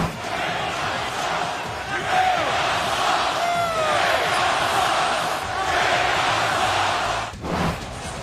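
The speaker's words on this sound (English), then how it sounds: "then the crowd started giving it to him" A large basketball arena crowd at an NBA Finals game between the Warriors and Cavaliers roars and jeers Draymond Green, a loud sustained wall of voices with surges and a brief dip near the end.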